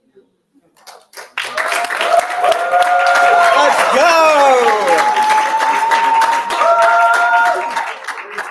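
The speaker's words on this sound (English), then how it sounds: "Keep clapping for that poet, though" A slam poetry crowd bursts into loud, sustained clapping and cheering for a poet, with excited shouts and a voice calling out over the applause before it fades.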